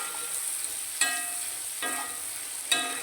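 Onions fry in oil previously used to fry squid, giving a steady bright sizzle throughout, broken by three sharp utensil clinks against the pan.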